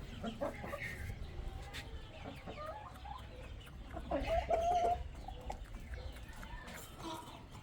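A hen clucks and pecks at grain from her feed, scattering it across the ground, with soft clucking and crowing-like calls and faint rustling throughout, a louder call rising in the middle.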